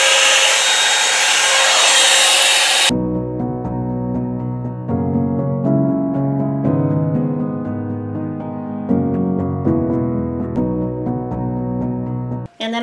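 A Revlon One-Step hair dryer and volumizer runs with a loud, steady broadband whoosh for about three seconds, then cuts off abruptly. Layered tonal music continues afterward.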